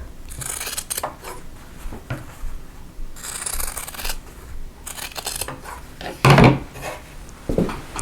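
Quilt fabric pieces are trimmed down to a quarter-inch seam allowance, with a run of close, crisp cutting snips and rustles at an uneven pace and one sharper, louder cut near the end.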